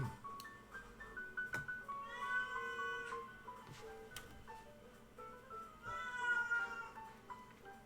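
A cat meows repeatedly in drawn-out, wavering cries, close by, with a few soft knocks between calls.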